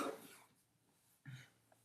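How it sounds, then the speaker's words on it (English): Two quiet, rough throat-clearing rasps, one at the start and another after a short pause, close to the microphone in an otherwise quiet room. "Sorry about me. Clearing my throat."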